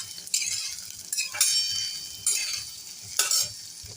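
Onion and green chilli frying in oil for upma crackle in a continuous sizzle, broken by four scraping stirs of a spoon spaced about a second apart, close and fairly loud.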